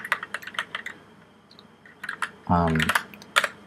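Quick rhythmic clicking of a computer keyboard, typed in short close bursts between pauses, with someone talking briefly in the middle.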